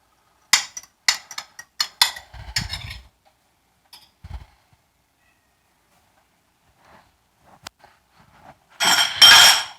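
Ingredients are stirred in a pan holding a little meat drippings for a diner-style Joe's Special: a few sharp metal clinks and scrapes come in bursts with quiet gaps, ending in a louder, rougher stretch of scraping.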